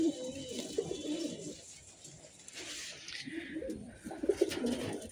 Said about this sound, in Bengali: এখানে 1 পেয়ার চুইটল আছে।